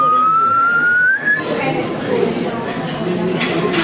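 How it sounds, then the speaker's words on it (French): A person whistles a single rising tone lasting about a second and a half, loud and close, then gives way to a noisy outdoor background with faint chatter. "Vous allez appeler tous les oiseaux du coin, là, en sifflant comme ça."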